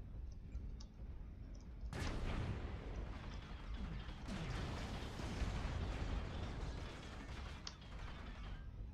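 An artillery strike lands in a mech combat video game: after faint mechanical clicks, a sudden loud explosion at about two seconds opens into a sustained rumbling barrage with further blasts, no talking.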